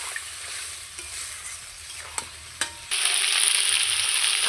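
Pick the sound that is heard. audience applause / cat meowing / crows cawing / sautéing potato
sautéing potato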